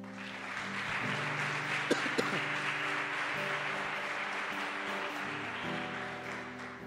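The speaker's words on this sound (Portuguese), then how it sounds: "Aplaude o Senhor." A church congregation applauding during a Sunday service sermon, a steady wash of many hands clapping that holds evenly throughout with no talk over it.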